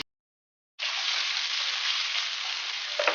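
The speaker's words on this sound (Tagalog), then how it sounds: "Gigisa po natin ng sili para lumabas ang aroma." Chili hits hot cooking oil and bursts into a loud, close, steady sizzle after a short silence, with a faint clink of a utensil near the end.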